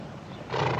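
A horse whinnies loudly and close by, the call swelling in the second half of a brief moment.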